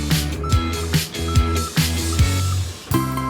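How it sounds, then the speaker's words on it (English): Steady, evenly spaced electronic beeps from a road sweeper's reversing alarm, repeating over a rumbling engine and clatter of machinery. "That's the sound the road sweeper makes to warn everyone that it's reversing."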